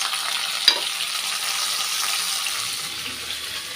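Onions and tomato sauté in a pan with a steady soft frying hiss throughout, broken early by one brief sharp clink or stir.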